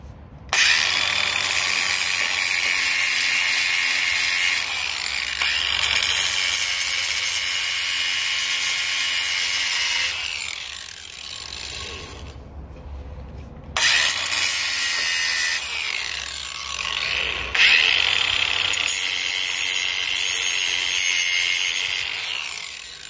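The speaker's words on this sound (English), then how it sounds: "we're going to go ahead and get the rest of the tabs drilled off of there" Power drill cutting gusset tabs off a Toyota 4Runner frame, a sustained loud whirring grind in long stretches with brief pauses between passes, close up and with no talking.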